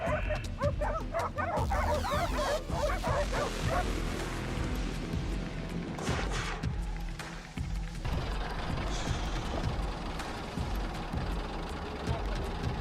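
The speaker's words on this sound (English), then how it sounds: "Nearby, barking grew louder." Hunting dogs bark at wild boar in an open field, a pack of repeated, overlapping bow-wows and yips running loud and continuous, with some whimpering and rustling mixed in.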